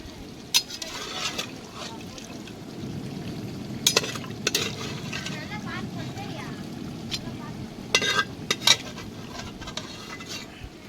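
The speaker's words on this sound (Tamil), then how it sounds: "இல்லை மிக்ஸ் பண்ணுங்க, அதை மிக்ஸ் பண்ணுங்க. அடி பிடிச்சிடும்." Food fries and sizzles in a pan outdoors at a garden feast while a spoon stirs and scrapes it, steady frying with several sharp metal clinks against the pan, and people talking over it.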